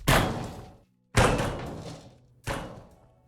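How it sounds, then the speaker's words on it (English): Explosion and falling debris in the ship-breaking video game Ship Graveyard Simulator 2: three heavy, booming impacts, each with a sharp onset and a rumbling decay, separated by brief pauses, loud and with no talking. "we got an explosion and some stuff fell"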